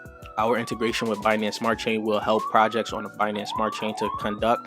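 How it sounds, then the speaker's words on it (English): A police siren wails as it passes, its rising and falling tone running beneath steady, close speech the whole way through. "sorry about the sirens"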